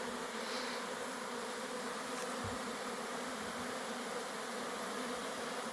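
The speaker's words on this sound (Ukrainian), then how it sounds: "І в нашій вулик із ППС прилетів чийсь рій. І вирішив тут поселитися." A bee swarm that has settled into a polystyrene hive hums in a dense, continuous buzz, steady and close, with no voices.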